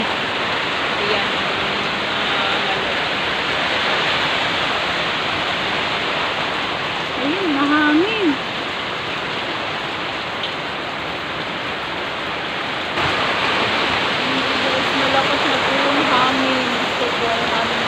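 Steady heavy rain from an approaching typhoon roars as a dense, constant wash of noise, with faint voices briefly rising beneath it.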